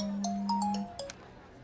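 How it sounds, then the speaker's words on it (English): A phone ringtone plays a short electronic melody, a sustained tone followed by a few rising and falling chime notes, clear and close, with no talking. "Hey, answer your phone."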